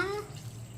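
A brief, steady rush of water pours into a pan of spiced okra and raw prawns, close and fairly loud, lasting under a second.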